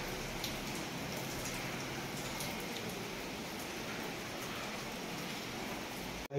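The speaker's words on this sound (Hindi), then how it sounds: "तो भाई बारिश स्टार्ट गोंचा में।" Rain falls steadily and fairly close during a Sunday monsoon evening, a continuous dense patter with scattered sharper drop taps and no speech, ending with a brief handling bump.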